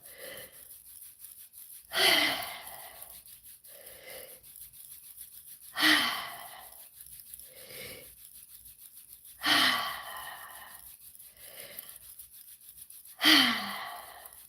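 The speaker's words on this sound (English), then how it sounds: "let's do a little bit of deep breathing" Slow, deep breaths during an acupressure session, four loud inhales spaced evenly with softer exhales between them, close and clear with no talking.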